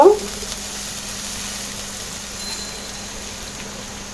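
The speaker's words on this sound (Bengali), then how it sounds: "দিব রসুন কুচি রসুনটা একটু ভালো করে ভেজে নিব" Chopped garlic frying in oil in a pan gives a steady, close sizzle that holds evenly after a brief clatter at the start.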